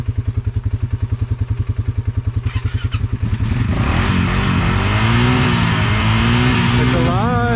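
Polaris Sportsman 570 ATV engine idles loud and close with a rapid, even chugging pulse, then revs up into a rough, strained roar with rising and falling pitch, a voice briefly heard under it.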